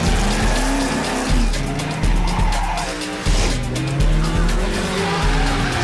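Cars drifting in the video game Juiced 2 Hot Import Nights: continuous loud engine roar with rising and falling tire squeal and skidding, plus repeated revving surges, close and steady throughout.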